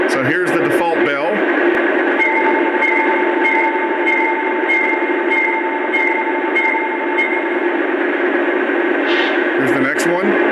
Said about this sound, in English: So here's the default bell.